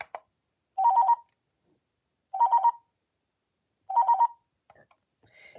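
A cordless phone handset paging ring triggered from the base's Find Handset button sounds three times as short trilling electronic bursts, evenly spaced with silent gaps, clear and close, followed by faint handling noise.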